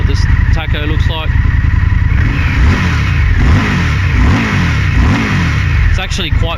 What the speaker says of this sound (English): as I'm revving the throttle, there's almost no delay.